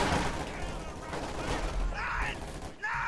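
Machine-gun fire in the Company of Heroes 2 strategy game comes as a dense rattling fusillade of overlapping shots that runs under a commentator's continuous talk, with brief game effect sounds near the end.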